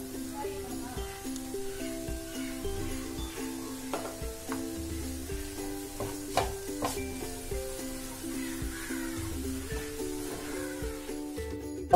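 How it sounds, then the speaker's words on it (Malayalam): Shredded chicken stir-fried with beaten rice (aval) in a pan, a soft continuous sizzle with spatula scrapes and stirring clatter, close and moderately quiet. "ഇനി നമുക്ക് ഫൈനലി ഇതിനകത്തേക്ക് നമ്മൾ ഷ്രെഡ് ചെയ്ത് വെച്ചിരിക്കുന്ന നമ്മുടെ ചിക്കനും കൂടെ ചേർത്ത് കൊടുക്കുക."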